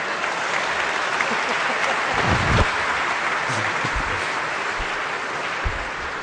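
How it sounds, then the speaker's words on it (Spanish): Dense, steady applause from a large audience at a political speech fills the space, holding at an even loud level throughout with a few low thumps and murmurs mixed in. "aplaudan pues, si no, ¿cómo?"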